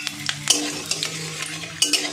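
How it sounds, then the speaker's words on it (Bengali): Whole spices, two cracked cardamom pods, two cloves, a cinnamon stick and peppercorns, frying in hot oil for a vegetarian potato-paneer curry, giving a soft sizzle with scattered clinks and scrapes of a utensil stirring in the pan. "এবার এই তেলেই আমি গোটা মশলাটা ফোড়ন দিয়ে দেব"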